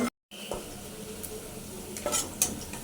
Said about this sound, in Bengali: কাঁচামরিচ পেস্ট কিন্তু একদম ভাজা ভাজা হয়ে গেছে